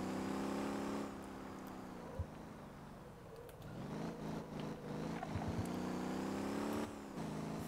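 Car in the driving game Motor Town, a steady engine drone that drops in pitch as it slows, then climbs again as it accelerates, with a few small knocks over the continuous hum.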